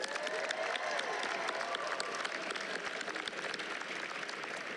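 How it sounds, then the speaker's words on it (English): A large audience applauds at an outdoor stadium graduation ceremony, a dense, steady wash of many hands clapping at once that stays loud for the whole stretch, with faint crowd murmur and scattered voices mixed in. "let's give our parents and family a big round of applause"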